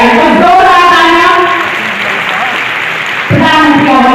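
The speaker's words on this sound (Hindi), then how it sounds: "जोरदार तालियां" An audience at a Chief Minister's government event in Sultanpur, inaugurating a state medical college before Diwali, breaks into a short burst of loud applause between stretches of an announcer speaking.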